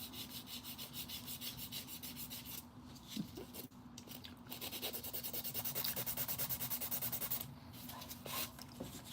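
Acrylic nail with glitter and marble detail being filed by hand with a nail file, a quiet, steady back-and-forth rasping in rapid rhythmic strokes, close and continuous throughout.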